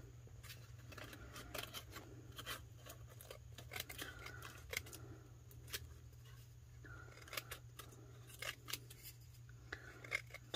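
Scissors snip through a thin Dollar Tree cocktail napkin laid on a glass tumbler, a run of quick, close crisp cuts with brief pauses between them, set over a steady low hum.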